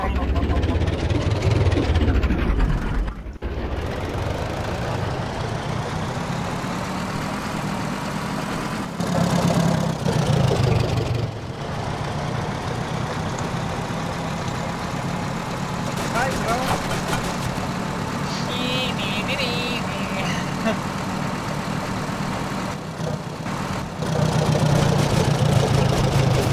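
A tractor engine in the video game ARMA 2 idles with a steady, close, rumbling drone that runs continuously while voices talk over it.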